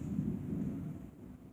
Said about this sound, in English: Cause the thunder, I saw it.